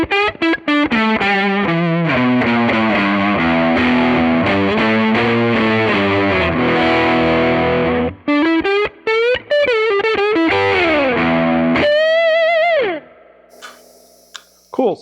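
A Les Paul Custom electric guitar on its neck pickup with a vintage tone setting plays loud, distorted chords and melodic runs, with pauses and sustained notes, then a descending bend fading into quiet near the end.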